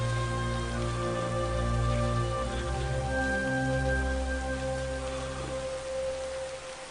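Rain falls in a steady wash of noise under sustained low tones, an even continuous patter for several seconds.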